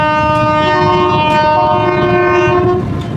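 A train horn sounds loud and sustained as the train passes close by, its steady multi-toned blare holding for about three seconds over a rumbling, rattling undertone of wheels and cars.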